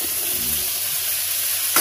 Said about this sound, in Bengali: আলুগুলোকে আগে প্রথমে ভেজে নেব।